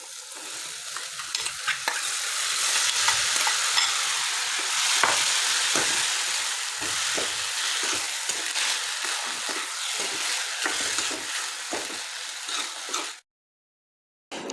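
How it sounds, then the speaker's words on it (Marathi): Sprouted moth beans with turmeric sautéed and stirred in a pan, a loud steady sizzle broken by repeated scraping stirs of the spoon, cutting off abruptly near the end. "मोड आलेली मटकी ती टाकायची आहे आणि छान असं परतून घ्यायचं आहे मिक्स करायचं"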